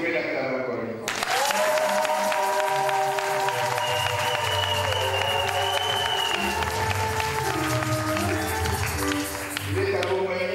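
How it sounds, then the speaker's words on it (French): A church audience in a seminar applauds and cheers for the pastor's wife, with steady sustained clapping under loud music and a speaker's voice throughout. "Est-ce que vous pouvez l'acclamer encore une fois?"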